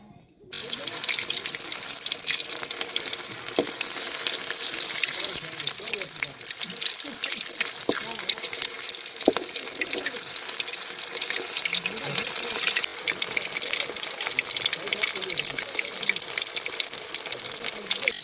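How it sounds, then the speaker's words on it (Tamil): Country chicken leg pieces fry in hot oil with a steady, dense crackling sizzle that continues throughout, fairly close, with faint voices and light kitchen clatter in the background. "இப்போ அடுத்து லெக் பீஸ் பொரிச்சு எடுக்க போகிறோம்"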